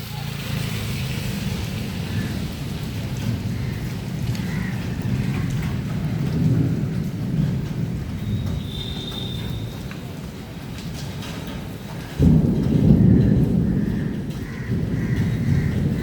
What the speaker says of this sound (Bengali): বিদ্যুৎ চমকাচ্ছে না কিন্তু মেঘ ডাকছে।